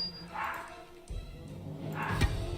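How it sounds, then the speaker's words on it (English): A pet dog barking non-stop indoors, two short yapping barks a second or so apart, moderately loud over faint background sound with some low thumps. "my dog is driving me insane. It's barking non-stop."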